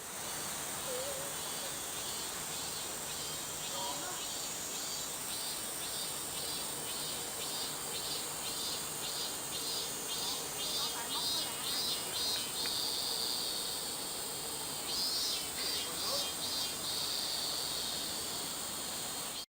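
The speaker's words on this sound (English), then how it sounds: "I do have a small audio clip of cicadas if you want to listen to that" Cicadas in Japan drone continuously in a dense, shrill chorus, with pulsing buzzy phrases rising and falling over a steady high hum.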